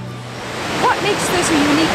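Flamborough Falls on a creek in Ontario pours in a broad, steady rush of white noise that swells slightly and holds, with a voice talking over it.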